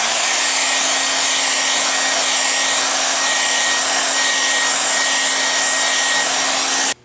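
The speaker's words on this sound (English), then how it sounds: "So now we will dry the surface using forced air." Steady forced air from a blower dries the surface of a water-washable fluorescent penetrant test sample, a loud continuous whoosh with a faint tonal hum that cuts off abruptly near the end.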